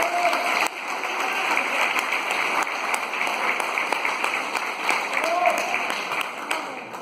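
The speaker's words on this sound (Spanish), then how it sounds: "el aplauso creo que os lo debéis llevar vosotros por todo" An audience applauds at a Spanish civic gathering on poverty and social exclusion, the clapping steady and dense throughout with no break.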